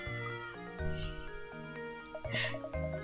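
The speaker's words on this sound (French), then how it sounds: "Qu'est-ce que ce chat fait ici? Vous amenez un chat sur le lieu d'un crime?" A cartoonish cat meow from the Professor Layton and the Curious Village video game rises twice over a steady bed of game music, the second cry brighter and louder.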